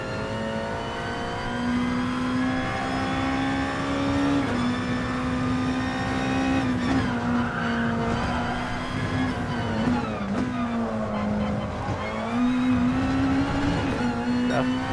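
Race car engine revving steadily at Suzuka Circuit in GT Sport, a loud continuous harmonic drone rising and dipping through gear changes for the whole stretch, with no talk over it.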